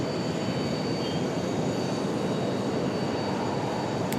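Faint, steady jet noise from an Icelandair airliner landing at Raleigh-Durham, a distant, even hiss and rumble with no clear swell, heard alone without voices.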